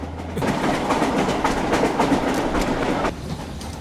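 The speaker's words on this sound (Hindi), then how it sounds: "सिग्नल रेड है, ट्रेन स्लो हो रही है" A train on rails eases its speed as it approaches a red signal, giving off a loud, steady rumble with a rhythmic clatter of wheels that holds for a few seconds and then drops off slightly near the end.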